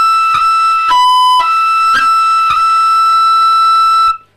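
Tin whistle playing short ornamented rolls from the Irish tune The Dunmore Lasses, a few bright, clipped notes followed by one long sustained high tone, close and clear with no talking.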